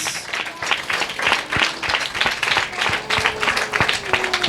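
A church congregation applauding during a Sunday sermon, with rhythmic, fairly close clapping from many hands and faint voices mixed in.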